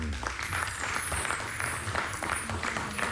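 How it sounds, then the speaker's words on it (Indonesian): An audience applauds at an evening coffee gathering with Pakde Karwo, producing dense, sustained clapping that fills the space steadily with no pause. "Tepuk tangan."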